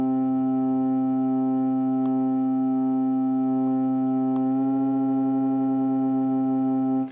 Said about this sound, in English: You can also do something kind of fun where you detune like the high voice.